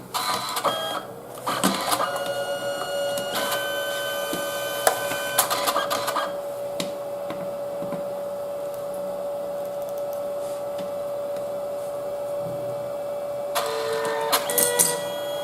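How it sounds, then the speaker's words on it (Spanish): Canon Selphy compact photo printer printing a photo: a steady mechanical whir with a sustained motor tone and rhythmic clicks as the paper feeds back and forth through the color passes, close and alone. "Entonces la máquina estaría todo el rato imprimiendo"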